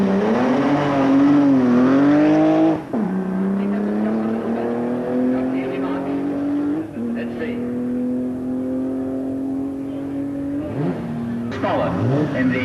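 An ERA racing car accelerates hard at the Brighton Speed Trials, its engine note climbing through rising gear pulls with sharp shifts between, loud and close, while a commentator's voice runs over it.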